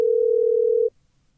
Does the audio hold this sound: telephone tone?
yes